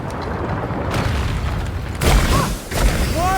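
A cannon loaded with Greek fire goes off in A Plague Tale: Requiem: two heavy, booming blasts about a second apart, loud and close, rising out of a steady rumbling game ambience.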